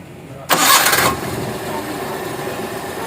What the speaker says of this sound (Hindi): पहले सलफ से ही स्टार्ट